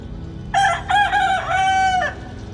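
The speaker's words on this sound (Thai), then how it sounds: "ไก่ตัวนั่นขันเตะหัวแรงเลยเนาะ" A rooster crows once, loud and close, a drawn-out multi-part call over a quiet background.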